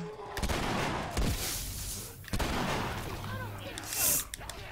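Gunshots aimed at fungal spores in The Last of Us ring out as a few sharp, separated bangs amid game noise, with people talking over them.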